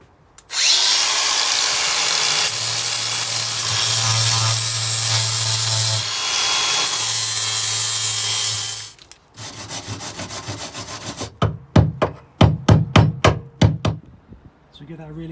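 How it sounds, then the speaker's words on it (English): Rusty metal panel on a Toyota Celica ST170 under restoration being sanded with a power tool, a loud steady grinding drone for about nine seconds, then rougher scraping strokes and a run of sharp rhythmic scuffs, no talking. "So we get that really good sand, chip off any big lumps and bumps."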